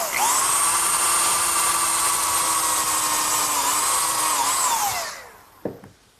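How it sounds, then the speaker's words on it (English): A combination drill countersink bit pre-drills wood for screws, the drill whining loud and steady for about five seconds before spinning down, followed by a couple of light knocks. "I'm going to pre-drill for the screws using a combination drill countersink."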